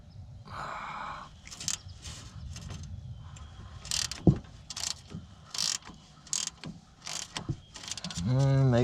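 A ratchet wrench clicks in short bursts while 15 mm bolts come off a Dodge Challenger engine, with metallic clanks and a brief whir at the end.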